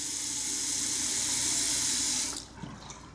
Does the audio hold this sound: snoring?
no